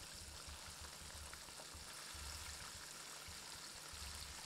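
Yellow bass fish fries in a pan over a campfire outdoors, giving a constant dense hiss and sizzle that stays even and fairly loud across the whole moment, with no talking.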